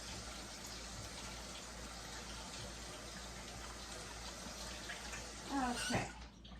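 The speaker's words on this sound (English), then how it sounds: "We're going to do each one with the hot water and clean them off real good." Hot tap water runs and splashes steadily over raw turkey necks being rinsed in a sink, a continuous gushing wash that swells briefly louder near the end.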